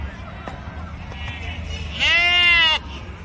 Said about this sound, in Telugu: మేక పిల్లలు చూడండి ఇట్లా అంత బాగా యాక్టివ్గా ఉన్నాయో.